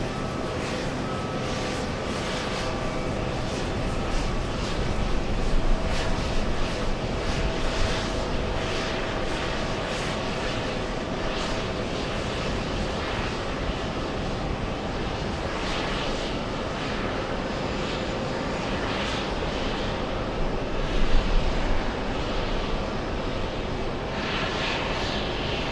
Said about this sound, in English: Big Singapore, the Singaporean 777 pushing